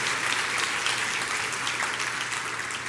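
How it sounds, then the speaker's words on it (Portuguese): A church congregation claps for the Lord during a worship service, producing dense, steady applause that fills the whole stretch at an even, fairly loud level with no voices over it. "Vamos dar salva de palmas ao Senhor."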